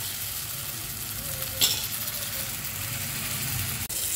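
Ridge gourd pieces fry in a pan with a steady, soft sizzle throughout, with a brief stirring clatter partway through and no talking.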